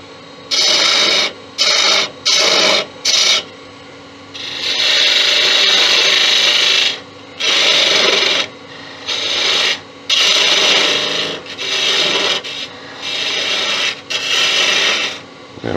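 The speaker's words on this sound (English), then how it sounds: "with detail gouge to get in there." Detail gouge cutting wood on a lathe makes repeated loud rasping, scraping bursts of varying length with short pauses between passes, close and harsh throughout.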